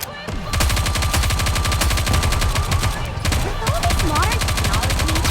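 Sustained automatic gunfire in the Goddess of Victory: Nikke shooter game, dense rapid shots running almost without break, loud and close, with brief electronic game effects layered over the firing.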